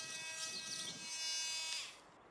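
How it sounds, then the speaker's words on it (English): An oscillating multi-tool buzzes as it cuts into timber for a cat enclosure build, a steady high-pitched whine heard close for about two seconds before stopping. "I had to hack at it with a multi-tool"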